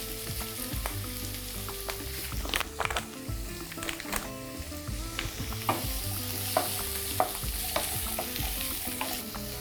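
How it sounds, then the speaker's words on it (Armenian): Zucchini and carrot sizzle steadily in a frying pan, with occasional stirring clicks and scrapes through nearly ten seconds of continuous, close frying; no one speaks. "Դդմիկը և գազարը թող տապակվեն"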